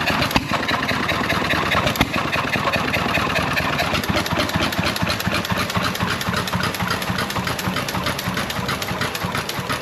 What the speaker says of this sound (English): the old John Deere's been sitting there running for over an hour now.